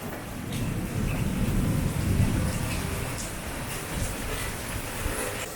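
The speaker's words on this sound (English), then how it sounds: "Hopefully the rain dissipates some." Rain falls steadily during a gravel bike ride through Georgia and Alabama, a dense, even hiss with a deeper rumble swelling in the middle, like distant thunder.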